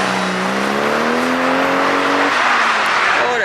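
A Corvette with a burble exhaust tune revs close by, a rising engine note climbing for about two seconds then dropping off into a rough, crackling exhaust rumble at a car meet.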